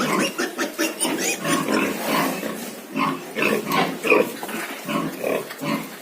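Piglets squealing continuously and loudly while fighting over a sow's teats to feed, a dense overlapping chorus of shrill cries and grunts, jostling together at close range.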